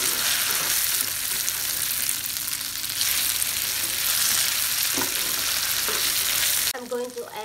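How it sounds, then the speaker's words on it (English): Tofu frying in a pan for pad thai, a loud, steady sizzle with occasional stirring scrapes that runs unbroken for most of the time before cutting off abruptly near the end. "Just fry until the tofu is little bit become harder"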